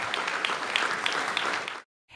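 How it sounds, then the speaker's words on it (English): Audience applause at a Washington fire station (Engine Company 22) opening in Ward 4, a dense, steady burst of many hands clapping that stops abruptly near the end, leaving silence. "A big round of applause."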